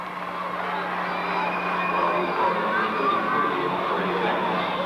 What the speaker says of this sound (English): The crowd noise is such behind us that we didn't even hear the whistle.